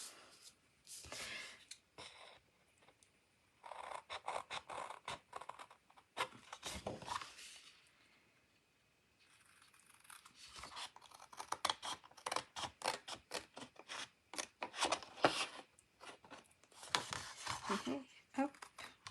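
Scissors snip through paper while cutting out a pop-up card, in short bursts of crisp cuts separated by pauses, close and fairly quiet, with a person speaking at times.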